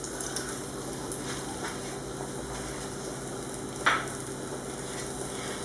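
Finely chopped onion for a mussel tajine fries in a pan with a steady low sizzle and light stirring, plus one brief louder scrape near the end.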